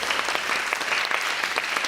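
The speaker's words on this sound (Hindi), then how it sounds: "भाई आयज़ा के लिए तालियां बजाओ" Studio audience applause for a guest on a talk show, dense rapid clapping sustained at a steady, fairly loud level throughout.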